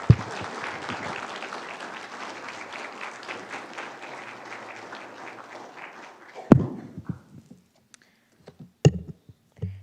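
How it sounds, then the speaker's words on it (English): Audience applause for candidates at a 2018 Texas House District 102 primary forum, a sustained crowd of clapping for about six seconds that tapers off, followed by a few scattered claps and thumps. "let's give these candidates a nice round of applause"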